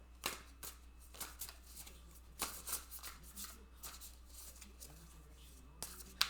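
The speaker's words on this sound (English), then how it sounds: "think I'll shuffle them this way." Tarot cards being shuffled by hand, a run of soft riffling and slapping bursts at close range with short pauses between them, no talk over the shuffling.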